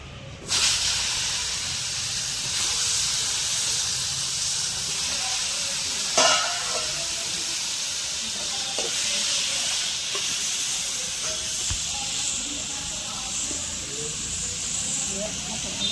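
Fish fries in hot oil seasoned with cumin and black cumin, giving an even, hissing sizzle that starts abruptly and stays steady, with a few sharper spits along the way.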